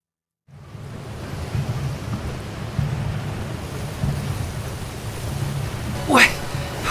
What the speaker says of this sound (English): What's up with this wind?